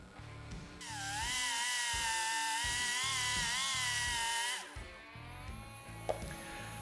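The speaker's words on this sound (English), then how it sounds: "I'm metal finishing my weld beads" A high-pitched power tool whines steadily while metal finishing weld beads, with a rhythmic low thumping underneath before the tool winds down and stops near the end.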